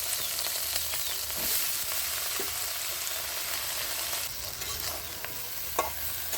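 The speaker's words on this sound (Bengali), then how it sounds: "ভেন্ডিটা ভেজে নিচ্ছি" Okra fries in a pan during outdoor cooking, giving a soft, steady sizzle with occasional scraping clicks from stirring, fairly quiet throughout.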